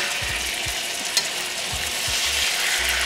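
Chicken pieces sizzle steadily in a hot pan, a bright continuous hiss broken by several soft low thumps and one sharp tap as the pieces are flipped, with nobody speaking.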